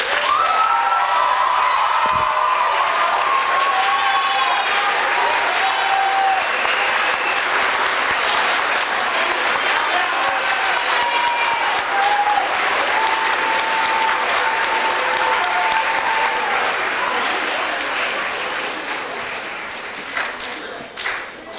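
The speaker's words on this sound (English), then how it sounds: "please join me in welcoming our new members with a round of applause." Sustained applause from a large audience at a fall National Honor Society induction ceremony welcoming new members, steady and dense throughout with faint voices mixed in, tapering off near the end.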